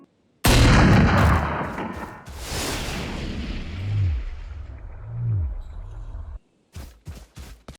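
Chamber's Tour de Force ability firing in Valorant: a loud, booming sniper-style shot opens, followed by a reverberating tail and deep swooping, whale-like tones. A short run of sharp clicks comes near the end, with no speech.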